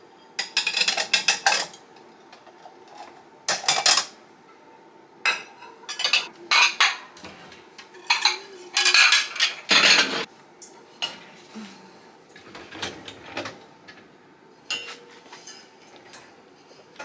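Dishes and cutlery are put away in a home kitchen, with scattered clinks and clatters of plates and silverware coming in irregular bursts close by, separated by quiet gaps.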